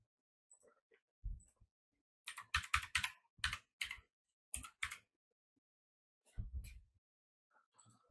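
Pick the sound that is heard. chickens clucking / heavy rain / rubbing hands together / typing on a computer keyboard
typing on a computer keyboard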